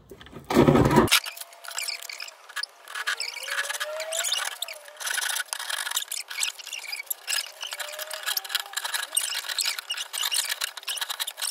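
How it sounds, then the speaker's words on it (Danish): Rapid, rasping saw strokes cut through a board, an uneven back-and-forth scratching that continues after a short burst of noise at the start. "og nu har jeg saven, så nu vil jeg bare save"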